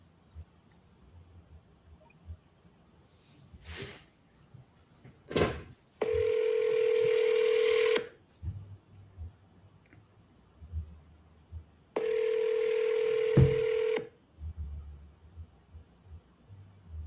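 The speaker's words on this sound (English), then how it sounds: "Try to ring him again real quick." Telephone ringback on an outgoing call, two long steady tones separated by a pause, with faint handling noise and clicks between.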